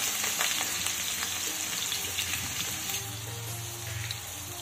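Cut eggplant pieces hit hot mustard oil with a dense, hissing sizzle, loud and close at first and easing slightly toward the end, with faint low rumbles beneath.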